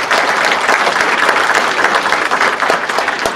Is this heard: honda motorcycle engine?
no